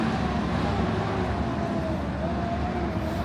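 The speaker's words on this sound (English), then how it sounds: "And you can hear the subways rumble underneath you." Beneath a sidewalk ventilation grate on 7th Avenue in New York City, a low continuous rumble from subway trains underneath mixes with street traffic noise, steady throughout.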